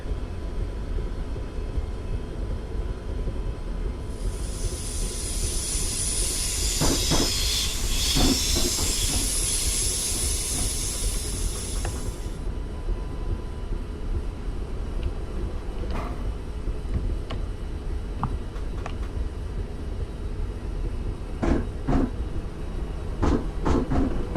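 A simulated train in Train Simulator 2019 rumbles steadily with a long hissing burst of air near the start, followed by occasional sharp metallic clunks and knocks over the low drone.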